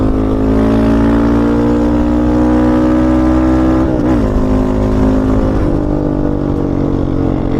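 Yamaha Raptor 700 ATV engine droning loud and close at steady high revs, with a brief stumble and dip in pitch around a missed gear shift before it settles back into the same continuous roar.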